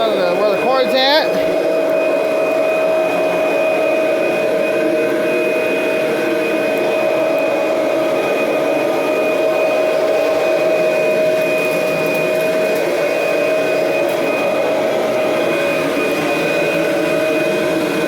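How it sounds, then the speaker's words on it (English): A 1991 Kirby Generation 3 upright vacuum drones loud and close on a floor near a cord, with a steady high-pitched motor whine; a brief clatter sounds near the start before the motor hum carries on evenly. "Vacuum right over here in front of where the cord's at."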